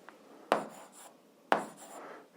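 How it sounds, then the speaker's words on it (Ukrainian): Handwriting on paper while solving an 8th-grade algebra exercise, heard as two sharp taps a second apart, each followed by a soft scratching stroke, close and quiet with no talk. "Отже, записуємо корінь із 3"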